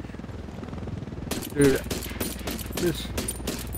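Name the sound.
gunfire from a video game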